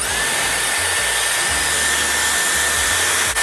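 A Dyson Airwrap hair styler blows air with a steady, loud whoosh and a high whine, running continuously at close range with no talking.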